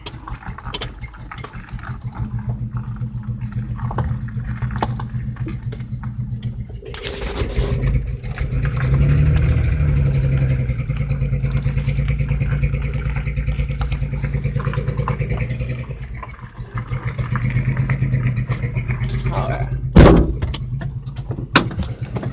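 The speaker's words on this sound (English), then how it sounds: "I'm gonna go ahead and give y'all a little listen to the exhaust real quick" A Geo Metro's exhaust runs in a steady, low, droning idle nearby, with a brief swell in the middle, a few sharper knocks near the end and faint birds outside.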